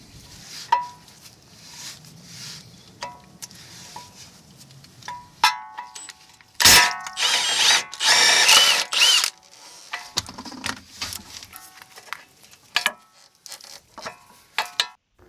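A ratchet removes a front suspension nut on an Infiniti G35 with 286k miles, giving quick clicking bursts up close, then a loud stretch of harsh metallic clatter and scattered clinks.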